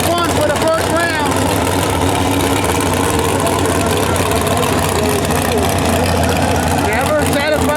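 Tractor engine roaring steadily and loud at a county fair tractor pull, a constant heavy rumble throughout with an announcer talking over it.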